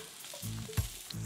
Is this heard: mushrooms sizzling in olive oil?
yes